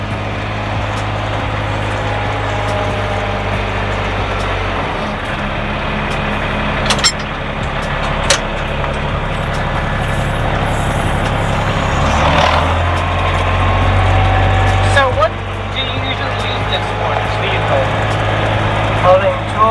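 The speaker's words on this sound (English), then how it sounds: "mini tractor." A mini tractor engine runs steadily on a farm with a low rumbling idle, close by, its pitch shifting partway through, with occasional clanks over it.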